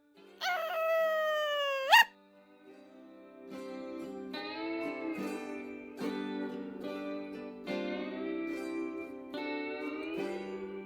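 A dog in the National Park Girls: Love Our Parks Edition video game lets out one loud, rising, drawn-out howl lasting about two seconds, then steady game music continues.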